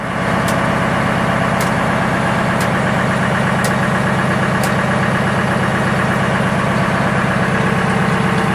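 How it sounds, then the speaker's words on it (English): The generator engine on a skid unit idles at a steady, loud, continuous drone with a regular low thrum, plus faint periodic ticks about once a second, close by and without talking. "Now we're ready to engage our generator."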